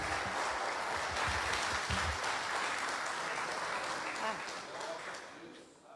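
Congregation applauding inside a church during a worship service, a steady dense wash of clapping that holds for several seconds and then thins and fades toward the end.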